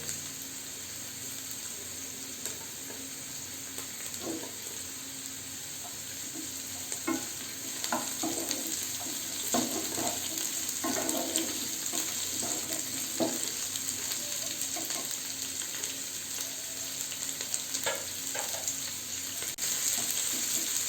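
Cauliflower florets and mixed vegetables stir-fried for restaurant-style Hakka noodles, a steady sizzle with repeated scraping and tossing of a spatula in the pan, moderately close and without voices.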